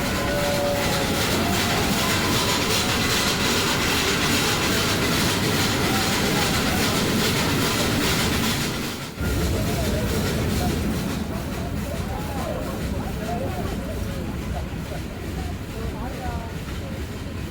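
The Ooty toy train on the Nilgiri mountain railway from Mettupalayam rolls along with a continuous loud rumble, rattling carriages and rhythmic wheel clatter, while voices talk underneath.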